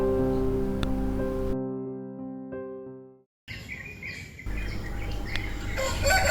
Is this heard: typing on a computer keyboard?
no